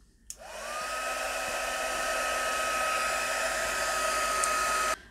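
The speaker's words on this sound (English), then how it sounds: "I've got my heat tool and I'm just going to heat emboss this." A heat embossing tool blows steadily over embossing powder on a card, switching on with a rising whine, holding a loud, even airy roar for several seconds, then cutting off abruptly, with no talk.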